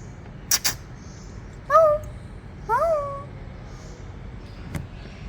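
A cat stuck inside a car's engine bay meows twice, short and plaintive, about a second apart, against a quiet background with a few faint knocks.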